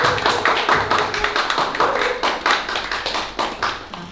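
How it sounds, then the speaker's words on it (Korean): An audience at a book concert claps to welcome a speaker, loud and close, with individual claps clearly distinguishable in a lively, fairly rhythmic burst. "여러분 박수로 환영해 주세요."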